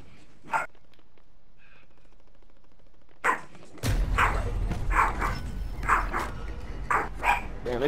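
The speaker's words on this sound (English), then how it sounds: "your dog sound just like my dog" A dog barks several times in quick bursts during a Call of Duty match, the barks fairly loud and close over steady game noise, with a few earlier isolated yelps.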